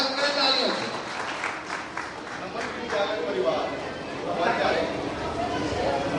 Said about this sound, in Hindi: गुरुदेव श्री उमा शंकर दुबे जी, स्वर्गीय उमा, आपका जोरदार स्वागत करें तालियों से